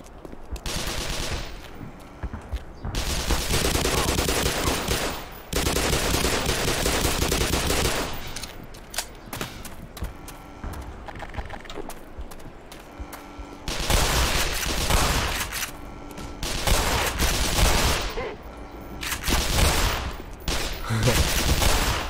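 Gunfire in the video game Black Mesa: long bursts of rapid automatic fire and loud shots in repeated volleys, filling most of the stretch with brief pauses between.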